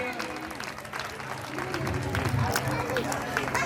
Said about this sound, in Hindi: हाँ, जोरदार तालियां इस बच्ची के लिए